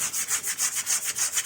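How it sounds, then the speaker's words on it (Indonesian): A car's brake drum being scrubbed by hand with coarse grade 60 or 80 sandpaper, a fast steady rhythm of rasping back-and-forth strokes, about seven per second, close and clear with no talk. "sobat bisa menggunakan amplas dengan grade 60 atau grade 80 ya"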